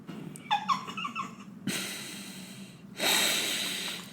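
A person breathes heavily in a few loud, close, ragged bursts of inhaling and exhaling, with a snort-like catch early on and long rushing breaths afterward, and no speech.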